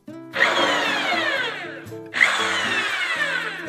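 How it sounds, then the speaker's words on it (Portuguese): An electric drill with a 2 mm bit bores into a guitar neck in two close, loud whirring bursts, each starting sharply and winding down slightly, with a brief pause between. "Furadeira broca 2 milímetros e agora é furar sem dó."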